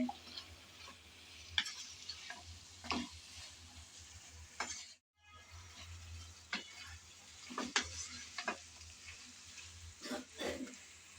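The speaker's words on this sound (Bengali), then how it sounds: "কিছুক্ষণ পর আবারও চলে আসলাম একটু নেড়েচেড়ে মিশিয়ে নেব বলে।" Drumstick pieces and tomato frying in a pan while being stirred, with scraping clinks and taps of a spatula over a soft sizzle, broken by a brief pause midway; near and fairly quiet, no voices.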